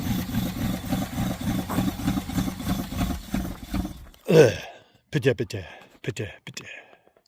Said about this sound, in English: It's actually idling for a second.